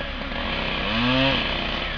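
Chainsaw steadily whining as it cuts off tree branches outdoors, a continuous loud buzzing engine with a brief rise in pitch as the chain bites into the wood.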